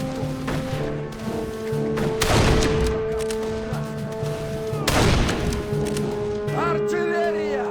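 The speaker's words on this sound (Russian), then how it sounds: "Артиллерия!" Artillery fire booms in the Darkest of Days video game as two heavy blasts rumble out against a sustained tonal background, with a voice briefly calling out.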